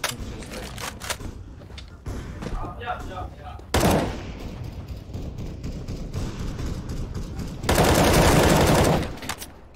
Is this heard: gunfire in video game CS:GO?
yes